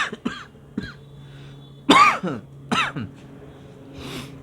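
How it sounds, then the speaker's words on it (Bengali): A person with a cold coughs and clears their throat in a few separate bursts, close and fairly loud, with short pauses between the harsh, rough coughs and no speech. "আজকে আবার ঠান্ডা লেগে গেল কাশি হচ্ছে"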